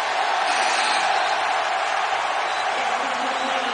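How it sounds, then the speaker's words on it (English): Basketball arena crowd at a college game between Texas Tech and Kansas roars steadily throughout, a dense sustained wall of cheering without breaks. "Crowd going crazy."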